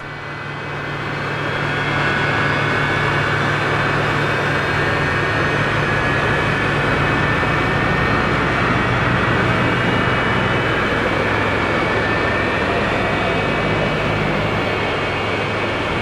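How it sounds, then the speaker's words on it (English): F-104 Starfighter jet engine in X-Plane 12 spooling up and settling, a steady loud turbine whine with tonal hum and broadband roar that swells in over the first two seconds and then holds evenly, with no talk. "It's like the engine's beginning to stabilize."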